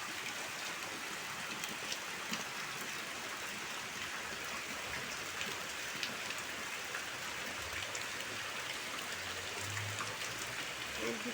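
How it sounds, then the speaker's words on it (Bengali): Heavy rain pours steadily over a waterlogged courtyard, a constant fairly quiet wash of patter and splashing with no breaks. "প্রচুর বৃষ্টি হচ্ছে"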